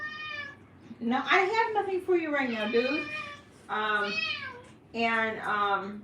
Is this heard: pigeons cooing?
no